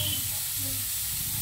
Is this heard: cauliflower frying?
yes